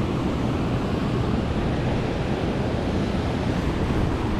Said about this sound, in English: Oh man, the wind is bad today.